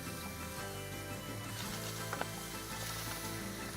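Mushrooms sizzle in a hot pan for risotto, a steady, close crackling hiss with faint stirring scrapes and a couple of sharper pops near the end, quiet overall and without voices.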